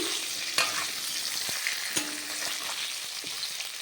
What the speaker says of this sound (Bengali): দেখুন আলু খুব ভালোভাবে ভেজে নিয়েছি